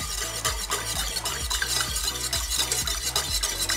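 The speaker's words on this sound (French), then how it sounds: "Je vais légèrement fouetter pour rendre le mélange homogène avant de le chauffer." An egg yolk mixture is lightly whisked in a small saucepan, with a steady rapid rhythm of whisk strokes clicking against the metal. The whisking is close, loud and even throughout, with no voices.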